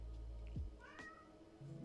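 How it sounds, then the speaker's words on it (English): A house cat gives a single short meow from a distance, faint beneath a steady low indoor hum, with no voices present. "Yep, I just heard the cat meow."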